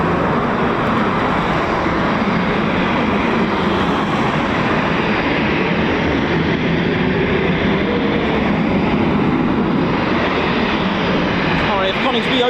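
A Eurofighter Typhoon FGR4 jet at RAF Coningsby makes a loud, sustained, broad jet roar that holds steady and close for the whole stretch, with voices underneath.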